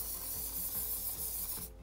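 Athlete's foot spray hisses steadily from an aerosol can onto the face of a golf club, a close, continuous spray lasting under two seconds before cutting off abruptly.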